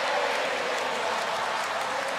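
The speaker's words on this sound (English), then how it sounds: "And the crowd are responding" An arena crowd at a basketball final between Nigeria and Tunisia cheers and applauds in a dense, continuous roar of clapping and voices, loud and sustained throughout.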